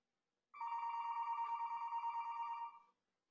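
A telephone bell rings in one sustained burst of about two and a half seconds, a steady warbling trill that sounds clear and fairly close, with no talking around it.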